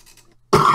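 A single sharp cough bursts out loudly and close after a moment of faint, quiet sound.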